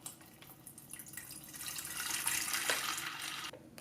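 Water pours from a tap into an Aroma AWK-165M 1.7 L electric kettle with a rising, hissing splash that swells and then cuts off abruptly; no talking.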